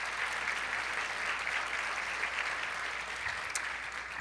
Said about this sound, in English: Would y'all give them a big round of applause?